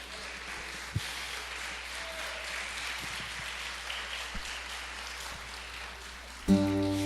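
A Catholic congregation claps during a Portuguese-language sermon, a steady, moderate wash of applause lasting several seconds before a sudden tonal sound cuts in at the end.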